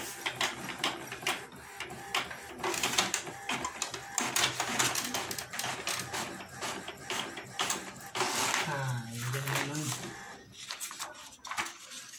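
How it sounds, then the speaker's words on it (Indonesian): Epson L310 inkjet printer running a test page, a continuous mechanical whirring and clicking with rattling paper feed, under intermittent speech and background sounds. "Sekarang mari kita coba mencetak dokumen dengan print test page."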